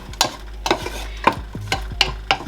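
Onions stirred and frying in a pan still coated with chicken sauce, with repeated scraping and stirring clatters over a low sizzle, close and moderately loud.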